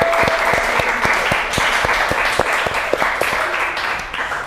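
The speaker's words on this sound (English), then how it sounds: "so round of applause for everyone in here." Applause fills a room at an end-of-season student TV awards show, a steady crowd of hands clapping loudly and close throughout, with a brief voice barely audible underneath.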